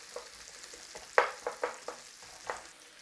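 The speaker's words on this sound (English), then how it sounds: "we are going in with our garlic and onions. Start with a little bit of a fry on there" Garlic and onions frying in oil in a pan for a creamy tomato sausage sauce, a soft sizzle broken by a handful of sharp stirring scrapes and pops, close and fairly quiet.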